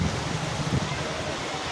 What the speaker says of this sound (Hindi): इटा होचे झरना